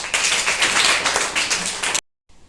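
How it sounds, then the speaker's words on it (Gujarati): Students in a class clapping for Hetviben, a brisk dense round of applause from a nearby group lasting about two seconds before cutting off abruptly into silence. "હેતવીબેન માટે તાળીઓ થઈ જાય"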